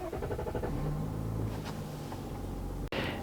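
A 2025 GMC Yukon XL Elevation with the Duramax diesel engine fires up and settles into a steady, loud low idle, with a brief click near the end.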